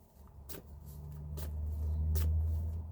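Tarot cards are shuffled in a few quick bursts, brief crisp riffling flicks spaced about a second apart over a low background hum, close and fairly soft.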